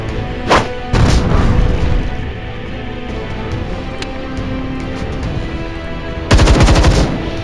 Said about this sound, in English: Let's throw our last grenade.